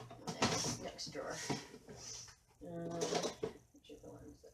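A kitchen-style drawer is pulled open and rummaged through for scissors, giving a few close wooden slides and clunks mixed with rattling contents, while a person talks over it.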